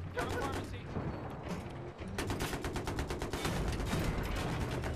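Tank cannon shells fired in a multiplayer match on the Seine Crossing map, booming in quick succession over a dense, continuous din of gunfire and battle noise, with voices talking underneath.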